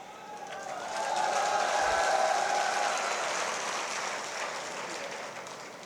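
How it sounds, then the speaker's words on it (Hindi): Audience clapping at a speech during a statue unveiling ceremony in Salwa Kalan, a sustained wash of applause that swells, holds and slowly tapers off, steady and moderately loud. "अब आप लोगों ने ताली बजा दिया"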